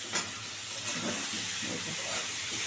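Potato going into a hot pan of oil for a prawn and vegetable curry, giving a steady close sizzle and hiss that holds throughout after a brief louder burst at the start.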